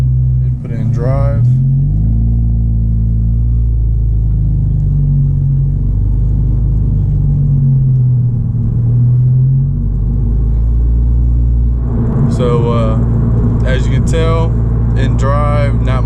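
Inside a Honda Civic with a turbo and a 3-inch straight-pipe exhaust, a deep, loud engine drone rumbles continuously, rising and falling, while someone talks over it at the start and end.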